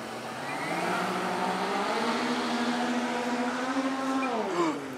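Motors on a homemade DIY speed boat rise in pitch as the throttle opens. They hold a loud, steady, droning whine for several seconds, then swoop downward near the end. No voices are heard.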